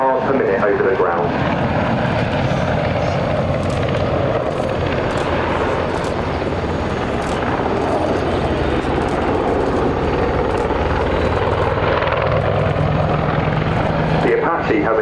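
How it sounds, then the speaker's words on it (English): AH-64 Apache attack helicopter flies at an air show, a loud continuous rotor and engine roar with rhythmic blade chop, under a commentator talking over a public address. "Apache cruises at 140 miles per hour, and when responding to an urgent scenario, such as troops in contact, we can fly over 180 miles per hour"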